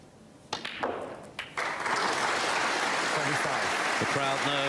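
Snooker crowd at the 2017 UK Championship final applauding after Ronnie O'Sullivan pots frame ball: a few scattered claps and thuds, then sustained broad applause swelling to fill the hall, with faint background murmur beneath.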